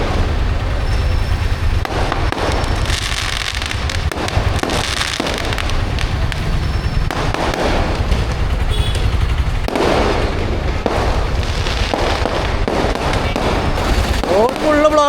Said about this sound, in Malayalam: പടക്കാണാ പൊട്ടുന്ന